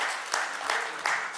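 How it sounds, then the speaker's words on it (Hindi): Audience applause for entrepreneurs at an Uttarakhand corporate and entrepreneurs meet in New Delhi, a burst of dense clapping from a crowd that rises in a few surges, loud and close, with a voice faintly underneath. "जो एंटरप्रेन्योर्स आज यहाँ हैं उन सबके लिए जरा जोरदार ताली हो"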